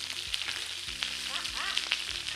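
Food browning on both sides in a frying pan sizzles steadily throughout, with a few soft clinks and stirring scrapes over the hiss and no one talking.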